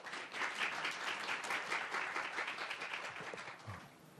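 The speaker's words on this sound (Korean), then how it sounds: "큰 박수로 유송 박사님을 맞아 주시기 바랍니다" An audience at a forestry outlook conference gives warm applause to welcome a landslide researcher to the podium, a steady, even round of clapping that fades slightly toward the close.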